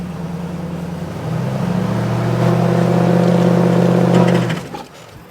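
An off-road vehicle's engine drones and climbs in pitch as it revs steadily while stuck in mud and snow, a strained hum that swells, holds for a few seconds, then cuts off abruptly.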